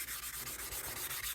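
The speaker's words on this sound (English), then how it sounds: "I know I'm still sanding with the grain." Hand sanding wood for a bass guitar build: a close, rapid run of even back-and-forth rasping strokes, dry and scratchy, with no voices.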